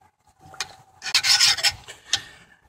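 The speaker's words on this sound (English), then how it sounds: "Now, as I'm sharpening on the other side," A steel cleaver is drawn across a 100 grit sharpening stone, giving several short, gritty rasping strokes in an uneven rhythm, close and moderately loud with no voices.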